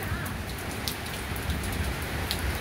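Steady rainy-season rain falls close by in San Juan, La Union, a dense even hiss with scattered sharper drops pattering on a surface.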